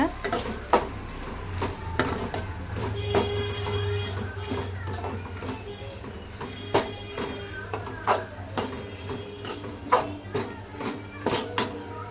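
Mudakathan greens with curry leaves and salt being sautéed in a pan, a utensil scraping and clinking against the metal in irregular strokes over a low steady background hum.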